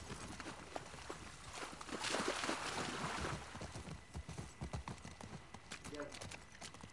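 A horse's hooves clip-clop at a steady walking rhythm in the video game The Last of Us Part II, moderately loud and close, with someone talking over parts of it.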